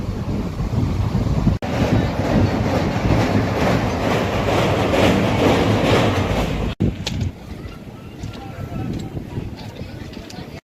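A loud rumbling train rolls along with clattering noise, then cuts to a quieter, hissing ambience at Keshod railway station with scattered clicks.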